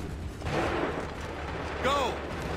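A musket volley in Assassin's Creed 3 at Lexington and Concord crashes out as a loud, rolling burst of gunfire, with shouted voices and battle noise around it.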